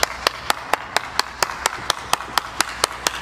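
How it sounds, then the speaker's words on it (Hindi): Hands clap in a steady, evenly spaced rhythm, about fourteen sharp, close claps in a row with faint background noise and no talking. "ताली बजा दे एक"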